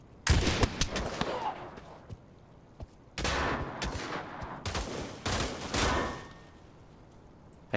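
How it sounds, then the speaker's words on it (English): Shotgun fire in the VR shooter Pavlov Shack, several loud sharp blasts in separate clusters with pauses between, each followed by a short ringing decay. "Shotgun on long range."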